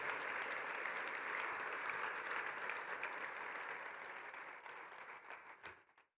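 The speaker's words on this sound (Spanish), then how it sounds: "Vamos a dar un aplauso a Jesús, nuestro intercesor eterno" A church congregation claps steadily for about six seconds during a Spanish-language worship service, the applause dense and sustained before tapering off and stopping abruptly at the end.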